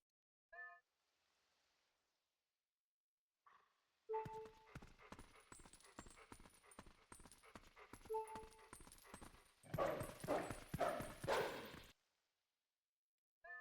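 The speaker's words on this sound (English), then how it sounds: "the goats going into the pen" In Twilight Princess HD, goats are herded into a pen, their hooves producing rapid clattering clip-clop steps for several seconds, preceded by brief bleats and game sounds.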